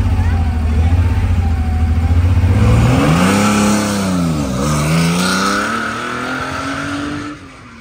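Classic Porsche on a Tour Auto rally special stage, its engine droning loudly and rising and falling in pitch as it accelerates and shifts past, before fading away.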